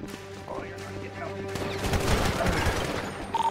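Rapid gunfire in GTA 5 roleplay during a SWAT hostage standoff: a dense burst of overlapping shots and crackling reports over steady background noise, loud and close.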